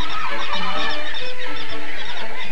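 A flock of herring gulls on the Newfoundland coast calls loudly and continuously, overlapping squawks and honking cries filling the air with no voices.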